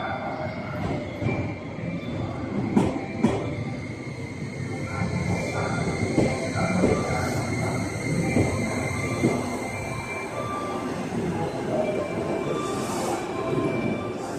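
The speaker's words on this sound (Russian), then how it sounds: "А вот и мой поезд." A local train in Japan rumbles steadily along the rails with wheel clatter and faint squealing, continuous and fairly close, with no talking.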